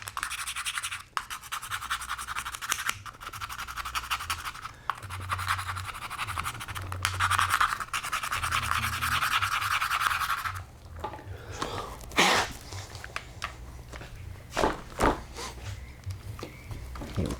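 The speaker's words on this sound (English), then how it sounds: "Can scrape all the mud and crud out of the way." A small tool scrapes mud and dirt from a part, making close, rough scratching strokes in bursts, then quieter scattered scrapes and clicks.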